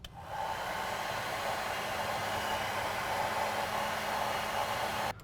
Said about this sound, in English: we're going to go ahead and heat up the heat shrink and seal that to both sides of the wire